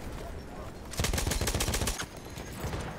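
Gunfire in a Battlefield 1 multiplayer match: a loud burst of rapid shots erupts about a second in and rattles on for roughly a second, then fades back into background battle noise.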